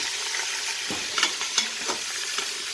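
Chicken pieces browning in an Instant Pot on browning mode, a close, continuous sizzle broken by several sharp stirring scrapes and clinks.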